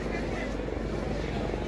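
Helicopter flying at an Indian Air Force aerobatics show at Marine Lines, a steady broadband rotor and engine roar that fills the whole stretch while a voice talks over it.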